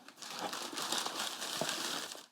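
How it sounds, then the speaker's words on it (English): Crinkly paper being peeled back inside a 2022 Air Jordan 1 OG High "Chicago" sneaker box, a continuous close rustle of promo paper with brief tearing crackles lasting a couple of seconds. "Inside the box also we have some Jordan promo paper. Now let's go ahead and peel all of that back"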